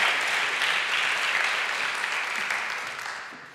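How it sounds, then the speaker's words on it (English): An audience at a science slam claps steadily in a dense, even wash of applause that fades slightly toward the end, with no voices over it. "a big round of applause is everything that's left"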